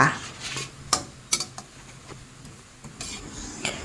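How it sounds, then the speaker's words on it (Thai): A spatula clatters and scrapes against a pan while khanom jeen rice noodles are tossed with holy basil and minced pork, sharp metallic clinks and rubbing strokes over a faint background sizzle. "แล้วก็ผัดคลุกเคล้าให้เข้ากันนะคะ"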